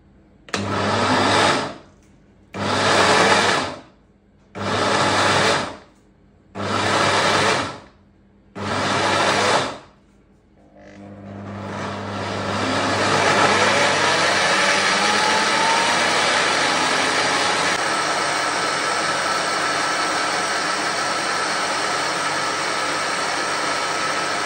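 A Hamilton Beach hand-free mixer grinds biscuit ambade batter, first pulsing in five short loud bursts, then running in one long steady whir close up, with no talking.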